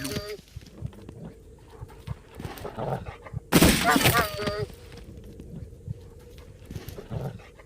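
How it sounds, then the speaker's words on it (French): Wolves bark and howl in the fantasy audio game A Blind Legend, with scattered yelps building to a sudden loud burst of snarling barks midway before settling back. "généralement, enfin ces bébêtes là dans ce jeu là c'est des loups"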